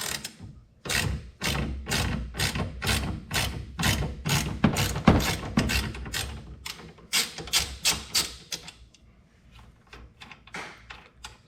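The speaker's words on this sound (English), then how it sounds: "we're just going to go ahead and take you off with a ratchet." Rapid clicking of a ratchet wrench removing a bolt, bursts of sharp mechanical ticks in quick rhythm, close and loud, slowing and thinning into sparser clicks toward the end.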